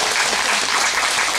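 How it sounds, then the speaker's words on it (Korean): Steady, dense applause from an audience at an awards ceremony and fashion show, sustained clapping throughout with no pauses. "모든 관계자분들께 큰 박수 부탁드리며 감사드립니다"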